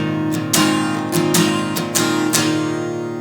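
Acoustic guitar chord from a song strummed a few times with open, unmuted strings ringing out, giving a fuller, slightly cluttered sound up close.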